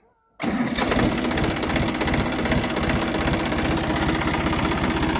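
A tractor engine cranks and catches abruptly after a brief silence, then runs at a loud, rough, vibrating idle up close, with a steady low knocking rhythm, on a farm run hauling sugarcane to the mill.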